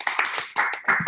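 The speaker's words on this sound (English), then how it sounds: "A little round of applause here for our mastermind, Aaron Primera." A short, light round of clapping from a few people, as for a speaker at an online webinar, with scattered uneven claps lasting about a second.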